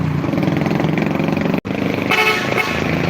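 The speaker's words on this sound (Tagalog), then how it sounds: "Bumusina na." A vehicle horn honks loudly amid street traffic at a Philippine roadside, with steady tonal blasts running through most of the moment, a brief cut midway, and engine noise beneath.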